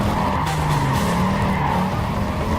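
In the Need for Speed Carbon video game, a car fishtails with loud, sustained tire skidding and squealing over a steady engine roar.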